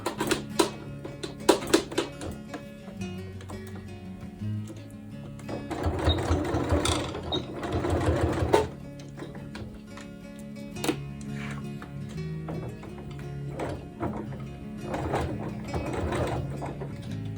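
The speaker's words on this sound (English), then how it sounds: "Start sewing for my mark." A sewing machine stitches a skirt waistband in close, fast mechanical runs, pausing and restarting with clattering bursts and a rising whir through the middle stretch.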